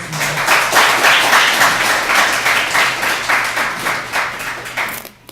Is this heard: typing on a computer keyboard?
no